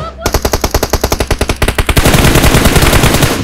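Rapid automatic gunfire in the PUBG Mobile video game, loud and close, a rhythmic burst of evenly spaced shots that blurs into a denser, sustained barrage for the last second and a half.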